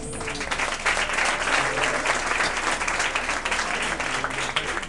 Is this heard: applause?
yes